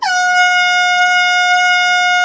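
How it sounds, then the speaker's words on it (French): A loud air horn blares as a single sustained, steady blast during a friends' challenge game, with nothing else heard. "Tu sais, avec le temps, je vais finir par m'habituer à ce klaxon."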